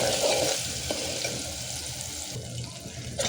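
Chopped tomato fries in hot oil with spices, a steady sizzle with some stirring clatter and watery hiss, fading a little before a sharper burst near the end.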